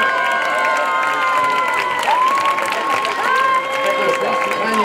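Applause and cheering from the crowd at an outdoor prize-giving for a bocce tournament winner at a club in Dongo, steady and close for the whole stretch, with voices mixed in among the clapping.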